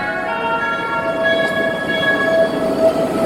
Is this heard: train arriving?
yes